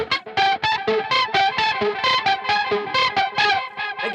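A main guitar riff with distortion and chorus-style effects plays as a choppy run of quick, bright, processed notes in a steady rhythm, loud and close with no voices.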